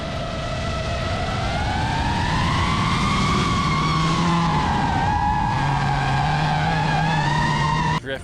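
A car drifts around the Dirtfish rally course with a pro driver, its tires squealing in a long, loud, sustained wail over a roaring engine, close and continuous.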